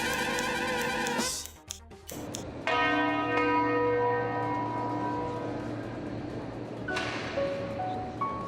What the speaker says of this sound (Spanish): ¿Por quién doblan las campanas?